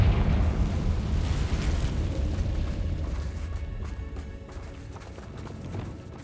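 A Confringo fire curse explodes in the video game Hogwarts Legacy: a loud, dense, roaring burst that rumbles on, slowly fading over several seconds, with no voices.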